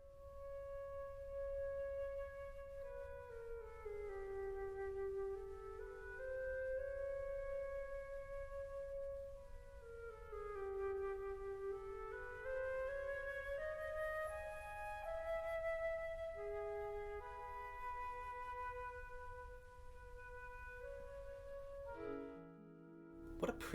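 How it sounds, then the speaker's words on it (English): A solo flute plays a gentle, floating melody in its higher register, with smooth sustained notes rising and falling at steady volume until it stops abruptly near the end. "The flute sounds like this."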